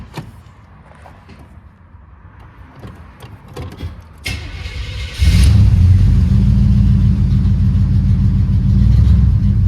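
An engine on a mower build starts after some quiet clicks and handling noises, then settles into a loud, steady idle as it warms up. The running engine holds at an even level for the rest of the clip.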